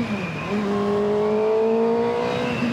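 A stock 2025 Kawasaki Ninja ZX-6R sport motorcycle engine revving on the road, a steady high-pitched tone rising in pitch, loud and close throughout.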